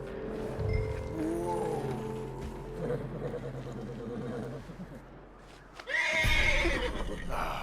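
A horse in the video game Red Dead Redemption 2 neighs loudly several times over steady game ambience, with a sharp, loud whinny bursting out near the end.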